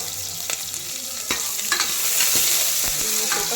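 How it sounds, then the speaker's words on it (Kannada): Onions fry in a pan with a bright, constant sizzle, while a utensil scrapes and knocks irregularly through the stirring, close and fairly loud. "ಇನ್ನು ಸ್ವಲ್ಪ ಫ್ರೈ ಮಾಡಬೇಕು."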